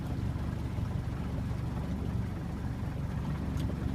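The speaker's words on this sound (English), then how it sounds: "You can hear the propellers kind of high there on the back of the skiff" Outboard propellers on a skiff run steadily in a shallow creek, a constant low engine drone with a high-pitched edge throughout, fairly close and unbroken.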